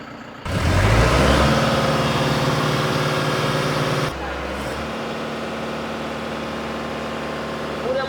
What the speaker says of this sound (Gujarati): પૂરેપૂરા આરપીએમ આપણે 2200 આરપીએમ ઉપર અત્યારે ટ્રેક્ટર હાલે છે